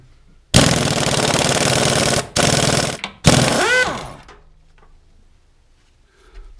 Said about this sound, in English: take this cap off, set it aside, and loosen this up with the impact